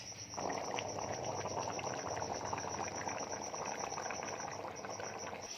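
A pot of murgh chana gravy simmers and bubbles, a dense, steady hiss of boiling that runs continuously at moderate volume with no talking.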